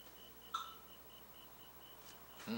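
A faint electronic beep repeats at a steady, quick pace, with a brief louder click or tone at the start and some rustling at the end.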